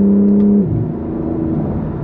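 A BMW M3 Touring's engine holds a steady tone, then the pitch drops as it shifts, followed by a lower, smoother hum of the engine pulling away.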